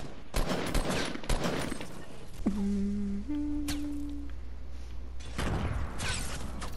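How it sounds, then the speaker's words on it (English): Gunfire aimed at the player in Fortnite: rapid bursts of shots crackle at the start and again near the end, with a lull between where a sustained mechanical tone rings out. "From where is it shooting me though?"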